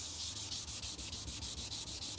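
Steady, rhythmic abrasive scrubbing of paint and red oxide primer off the metal of a 1968 Dodge L1000 truck, rasping back and forth in quick regular strokes, loud and close.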